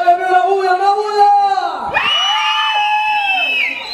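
A children's audience at a mariachi show cheers and shouts, with high, whooping voices that swell into a loud, sustained burst of yelling.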